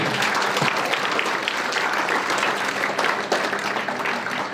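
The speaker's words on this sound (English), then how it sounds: "Once again, give them a big round of applause." Steady applause from a school audience honouring the newly selected head boy for the academic session, a dense crackle of many hands clapping at moderate loudness for several seconds.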